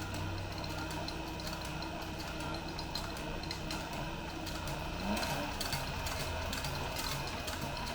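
A sewing machine stitches through leather for a pen-locking notebook, a steady, continuous mechanical whir and clatter running close and even throughout, first a few stitches in reverse and then forward.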